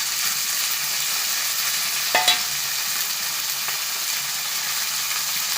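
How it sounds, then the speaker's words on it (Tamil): Pieces of athalakkai, a wild bitter gourd, fry in a pan with a steady, bright sizzle throughout. A couple of sharp scrapes from stirring cut through near the middle. "இதோட நம்ம அதலக்காய் துண்டுகளை எடுத்து கிளற ஆரம்பிக்க வேண்டும்."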